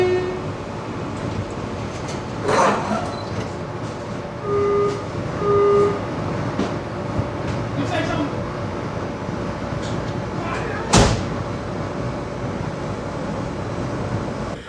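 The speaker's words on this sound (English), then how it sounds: "there's sort of a swooshing noise as the subway goes through the tunnel" A Baltimore Metro subway train from 1983 moves through a tunnel with a steady swooshing rumble and rhythmic clatter, a few sharp metallic squeals and clanks rising above the constant roar, including one loud burst near the end.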